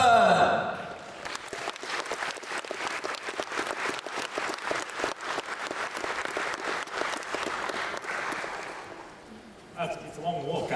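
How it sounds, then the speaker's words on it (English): Audience applause fills a PAX Australia 2017 games-industry panel hall as the host walks on stage, steady dense clapping for about nine seconds before tapering, with a brief swell near the end and a voice at the start. "you can't get out here in time for the clapping to still be going"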